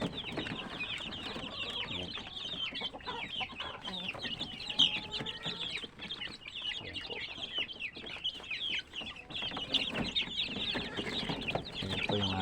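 Many chicks peeping together in a dense, continuous chorus of high, shrill chirps, close and busy throughout with no pauses.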